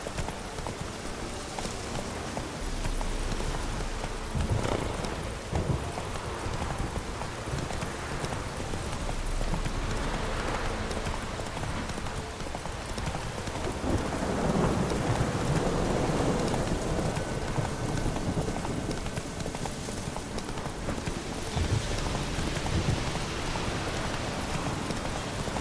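A horse's hooves clip-clop steadily on a road in the rain in The Witcher 3, with a continuous wash of rainfall around the even, moderately loud gallop.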